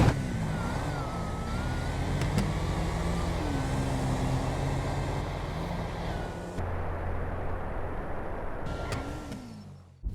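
An STX and a Nova drag racing in GTA V, a sustained engine roar with shifting pitch as the cars accelerate and change gear, loud and continuous, with a sudden drop partway through.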